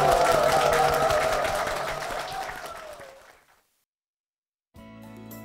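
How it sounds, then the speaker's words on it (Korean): Congregation applause at a Korean church broadcast, offered as praise to God: full clapping that gradually thins and fades out, then silence before soft music begins. "주님께 영광의 박수 올려드리겠습니다"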